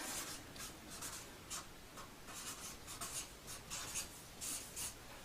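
Marker or chalk writing on a board, soft scratchy strokes in short uneven bursts, close and quiet with no voices.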